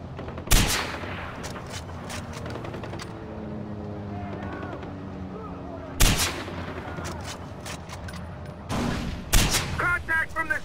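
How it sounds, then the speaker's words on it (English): Gunfire rages in a Far Cry 4 firefight: sharp loud shot cracks at several points among rattling bursts and scattered distant pops, with a rapid burst of automatic fire near the end. "I'm taking fire!"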